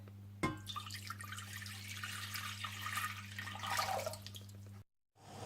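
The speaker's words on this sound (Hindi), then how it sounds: "सबसे पहले आप पानी डाल लें" Water pouring into a pot on a home kitchen stove to start Kashmiri tea, a steady splashing trickle over a constant low hum, ending abruptly.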